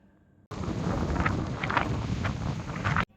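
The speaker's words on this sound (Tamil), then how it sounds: "இங்கே பயங்கரமாக காற்று அடிச்சுது கைஸ்" Strong wind roars across the microphone in an open outdoor setting near the Adiyogi statue, a steady loud rushing blast with gusty surges lasting about two and a half seconds, no voices.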